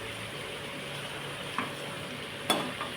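Potatoes and chicken cook together in a pan with a faint, steady low sizzle, broken by a couple of soft stirring scrapes.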